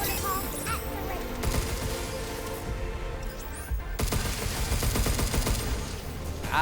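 Rapid gunfire from a hard-recoiling weapon in the video game Pragmata, loud and dense bursts layered over game music and effects, with a brief lull in the middle before the firing resumes.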